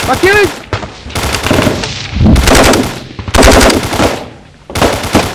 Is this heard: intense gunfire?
yes